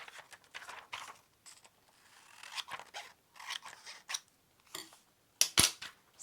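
Scissors snip and trim paper to size for a faith journal page, a quiet run of short crisp cuts in bursts with small pauses, close up, ending in a sharper, louder snip.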